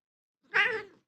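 A cat gives a single short, close meow, rising then trailing off, with silence before and after.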